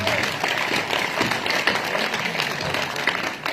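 A crowd at a kavi sammelan poetry gathering in Pilani claps in a brief, close burst of applause, with uneven hand claps running for a few seconds under some faint talk.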